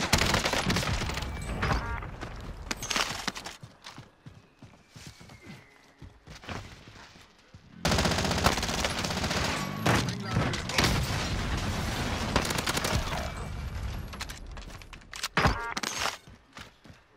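Gunfire and explosions in the battle royale shooter Call of Duty: Warzone, with bursts of shots, booms and footsteps running throughout, dense and loud, while voices talk in the game.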